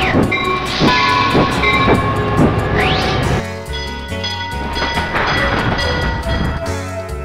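A train in a video game rumbles along the rails with a loud, steady roll and rhythmic clacking of wheels over track joints, the sound shifting in tone midway as it continues past.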